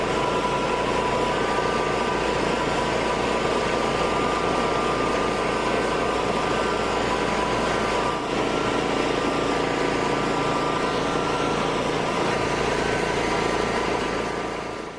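An Aztec UltraGrind concrete grinder with vacuum attached runs at full throttle, giving a steady, loud, continuous machine drone with a whining hum that holds evenly throughout.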